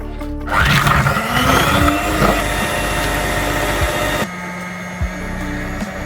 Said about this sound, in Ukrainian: 200 грам цукру і збиваємо міксером до пишної маси